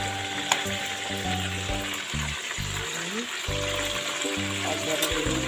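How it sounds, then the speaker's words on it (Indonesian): Chicken pieces fry in hot oil in a home kitchen, a steady broadband sizzle running throughout at close range, with low harmonic voices talking over it. "Kita goreng"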